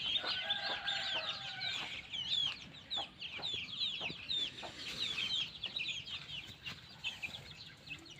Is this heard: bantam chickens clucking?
yes